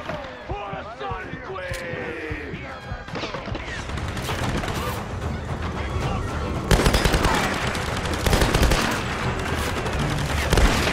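Rapid gunfire from firearms in the Tomb Raider video game, dense bursts of shots building into a sustained, loud barrage over busy game sounds, with a voice talking underneath.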